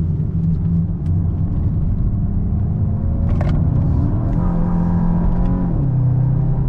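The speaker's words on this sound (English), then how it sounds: "I'm giving it heaps of power, heaps of throttle, sorry, in third gear going up a hill from low revs" Inside a 2023 Volkswagen Golf GTI, the engine works under full throttle in third gear climbing a hill from low revs, a loud continuous droning rumble that rises steadily in pitch as it pulls.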